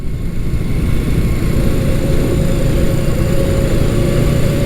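A 1975 Honda CB550 Four Super Sport inline-four motorcycle engine running steadily while riding at a moderate pace, a loud, smooth continuous hum with no talk over it.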